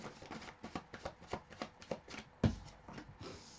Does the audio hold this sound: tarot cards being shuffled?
yes